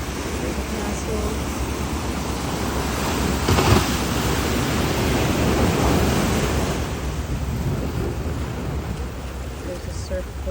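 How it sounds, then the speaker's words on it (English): Ocean waves roll in at a beach in Portugal as a broad, continuous wash of surf that swells and fades, mixed with wind rumble on the microphone. "Check out this cool beach. It's in Portugal."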